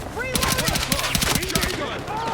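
Rapid automatic gunfire during a night raid in Battlefield 6, a dense close burst of shots lasting over a second with whistling ricochet-like tones around it.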